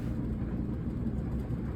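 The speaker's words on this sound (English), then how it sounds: "without any of the effects, it sounds like just plain old dryer recording" A steady low mechanical rumble with broadband noise, even and continuous like a running clothes dryer, heard up close with no voices.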